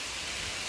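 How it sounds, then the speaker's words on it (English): Hail falling outdoors during a long cold trek, a dense, steady hiss of pellets striking close by, unbroken for under a second with no voices. "It's hailing right now."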